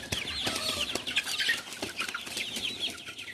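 Farm chickens crowded into one pen clucking and chattering together in a busy, continuous flock sound, fairly close, with no talking.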